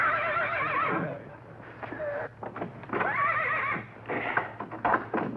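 A horse whinnies and neighs repeatedly in a vintage sitcom scene, loud and close, with shaky rising calls broken by snorts and a few hoof clops.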